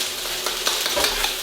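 Carrots tipped into a hot pan for shrimp lo mein, sizzling loudly and steadily while a utensil scrapes and stirs through them in uneven strokes; no one speaks.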